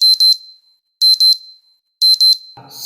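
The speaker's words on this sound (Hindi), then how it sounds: "एक काम करता हूँ, सुबह 3 बजे का अलार्म सेट कर लेता हूँ।" An alarm clock rings in loud, sharp double beeps that repeat about once a second, three pairs in all, with a brief rustle at the end.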